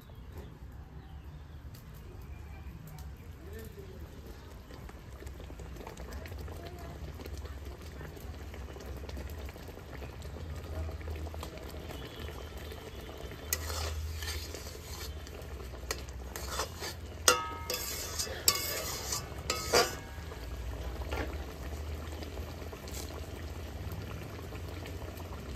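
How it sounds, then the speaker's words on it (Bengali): Fish curry gravy bubbles in a pot on a home kitchen stove with a low, steady simmer. Sharper clatters and splashes rise in the middle as fish is added, and no voice is heard. "ঝোলটা ফুটে উঠেছে, মাছগুলো আমি ছেড়ে দেবো।"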